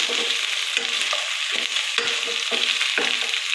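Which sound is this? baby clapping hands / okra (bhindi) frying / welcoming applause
okra (bhindi) frying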